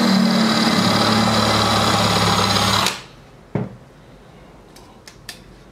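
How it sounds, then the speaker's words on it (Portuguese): A power drill countersinks a screw hole for a shelf, whirring loudly and steadily for about three seconds before spinning down, followed by a sharp knock and a few faint clicks. "agora eu vou escariar, né? Abrir um pouquinho o buraco para receber o desenho do parafuso"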